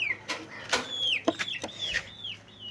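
Young chicks in a cage peeping repeatedly, high descending chirps close by, mixed with a few soft clucks and clicks.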